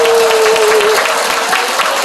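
Loud, dense audience applause at a live public broadcast event for standing supporters, a continuous roar of many clapping hands with a faint voice or tone briefly audible early on.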